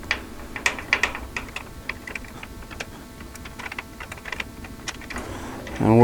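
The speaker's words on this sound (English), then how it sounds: "we'll take our 1/2-inch wrench and we'll loosen this upper bolt on this welded mounting tab here" A 1/2-inch wrench loosening a bolt on a welded mounting tab of a 2022 Polaris Ranger 570, rapid light ticking clicks like a ratchet in quick bursts, close, with a brief voice at the end.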